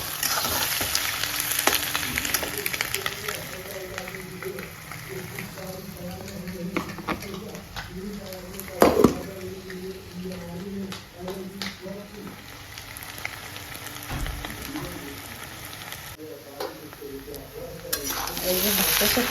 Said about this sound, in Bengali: তাহলে দিয়ে দেবো ভাত